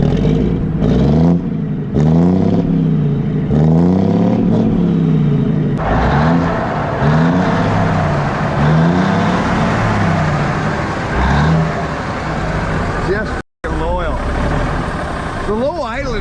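A 1957 Hayes HD truck engine turns over and settles into a loud, rough idle close by, with a deep steady rumble running throughout while people talk over it.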